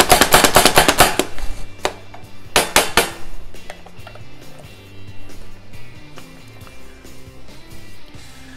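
A knife chops potatoes and carrots on a cutting board for clam chowder, with rapid sharp close taps in two quick bursts at the start, then quieter scattered kitchen clatter.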